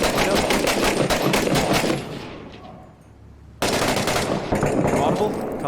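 Gunfire in Six Days in Fallujah: sustained, loud rapid-fire bursts of automatic weapons, dropping away briefly for about a second and a half before a second dense burst resumes.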